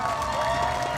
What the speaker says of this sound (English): let's give Geek Fam a round of applause